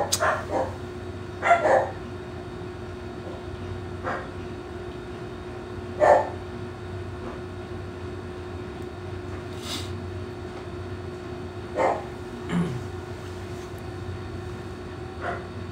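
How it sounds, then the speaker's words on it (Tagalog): A dog barks several times at irregular intervals, some single and some doubled, fairly faint and somewhat distant over a low background hum. "Ang ingay ng aso."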